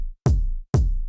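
Electronic kick drum sample for an indie song in Ableton Live: two punchy hits half a second apart, each with a sharp bright attack and a deep booming low tail, loud and alone.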